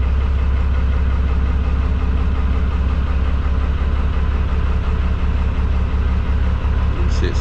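Cold narrowboat diesel engine idling on a winter morning before warming up, a steady loud low throb with a rapid knocking pulse throughout, close by.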